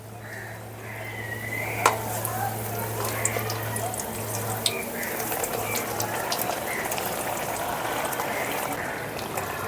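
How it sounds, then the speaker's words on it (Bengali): Eggplant fritters (beguni), three or four at a time, sizzle in hot oil on a gas stove: a steady close hiss with a low hum underneath and occasional small pops. "বেগুনিগুলো তেলে ছেড়ে এক সাইডটা ভাজা হয়ে যাবে,"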